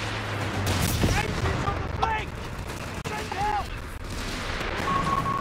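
Machine gun and mixed battlefield gunfire in the wartime strategy game Company of Heroes 3, loud bursts and booms in rapid succession with distant shots, and voices talking over the fighting.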